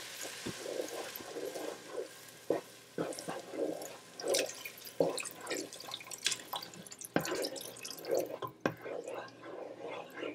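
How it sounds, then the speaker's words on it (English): Water is poured slowly into a pot of cheeseburger soup while it is stirred, giving a close, quiet trickle and drip with irregular knocks and scrapes of the spoon against the pot. There is no talk. "now we're going to go ahead and add our water slowly while stirring."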